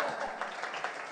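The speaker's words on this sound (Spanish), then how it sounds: "Fuertes aplausos a la hermana." Faint, muffled applause for the sister at a community gathering in barrio Santa Ana, a short wash of distant clapping with no clear individual claps standing out.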